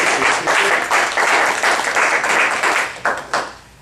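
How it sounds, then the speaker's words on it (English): A small crowd at a Toastmasters-style meeting applauds the evaluators, with a burst of clapping that rises and falls in waves for several seconds before tapering off. "So let's give a round of applause to all the evaluators."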